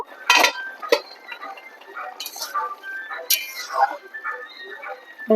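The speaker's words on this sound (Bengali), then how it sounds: "ঢাকা দিয়ে দেব এবার ঢাকনাটা তুলে দেব" A metal lid lifts off a cooking pot of fish-head muri ghonto with a sharp clink and rattle, followed by softer utensil taps and clinks as a person talks over it.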